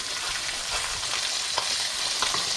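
Pork chops frying in a pan, a dense, even crackling sizzle that holds steady throughout, with a few small pops and no voices.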